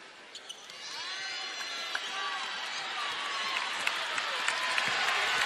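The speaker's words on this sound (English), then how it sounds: "The ovation has already begun." Crowd ovation builds at a WNBA basketball game, the Connecticut Sun's opening day against the Las Vegas Aces, with squeaking sneakers and a bouncing ball over the rising cheers and applause.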